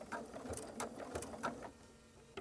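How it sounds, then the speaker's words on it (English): A sewing machine stitches fabric during couching and fraying work, a quiet rapid mechanical chatter of clicks and whirs that slows and stops near the end. "Then I'm going to stitch until I come right to this point."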